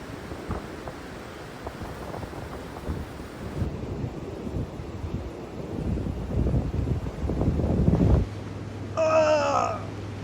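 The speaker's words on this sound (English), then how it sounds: "the wind is whipping again" Strong wind gusting outside a van parked in freezing Appalachian wilderness, a steady broadband roar that builds toward the end, followed by a short burst of high chirping.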